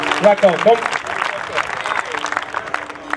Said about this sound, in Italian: Vieni Marco, a te l'applauso prima di tutto